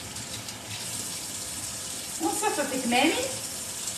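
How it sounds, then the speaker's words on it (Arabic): A running kitchen tap during handwashing makes a steady water rush that swells louder toward the end, with a person speaking briefly over it. "باهي نمشي نغسل يديا كالعادة والعوايد"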